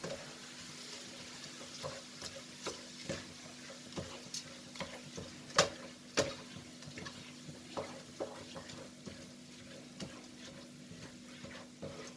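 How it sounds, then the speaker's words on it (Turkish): Rice being sautéed with softened onions in a pan for stuffed grape leaf filling, with light frying and a steady series of scraping stirs and clicks of a spoon against the pan, close and fairly quiet, no talking. "Şimdi pirincimi de içine ilave ediyorum. Şimdi bunu da Güzelce kavuracağız."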